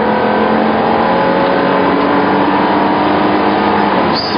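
A car engine revs steadily and loudly while merging in sports gear, a sustained droning whine close inside the cabin, ending with a brief higher tone.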